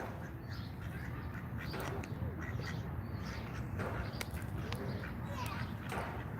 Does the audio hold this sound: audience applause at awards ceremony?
no